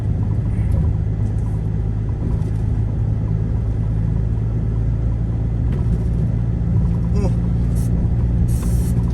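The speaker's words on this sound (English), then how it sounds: "If you hear a weird sort of blowing sound in the background, that's just the air conditioning in the truck" A steady air-conditioning blower hums inside a delivery truck over a deep engine rumble, with a person talking throughout.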